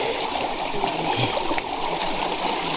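Water flows steadily in a constant rushing stream, loud and close, with no voices.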